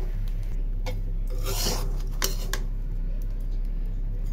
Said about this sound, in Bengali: এক হাতে উল্টানো যায় না, তো কড়াইতে লেগে আছে।